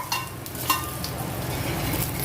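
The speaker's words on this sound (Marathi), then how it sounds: "गॅस स्लो करून झाकण ठेवत आहे, म्हणजे थोड्या मिरच्या फ्राय होतील." Stuffed green chillies frying in a pan over low gas, a close continuous sizzle with crackling pops and a couple of sharper spatters near the start, no voices over it.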